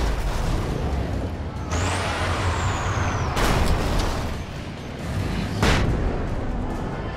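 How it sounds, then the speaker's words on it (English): A flashbang grenade goes off in the video game Alan Wake Remastered: a sharp blast followed by a high, falling ringing tone, then further heavy bursts over a constant dark rumble. "I do have a flashbang"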